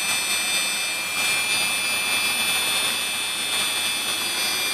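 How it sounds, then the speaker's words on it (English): An electric motor spins steadily during an optical tachometer test, giving a continuous high whine with a hiss beneath it, unbroken for the whole stretch. "what I'm going to do now is stop the motor"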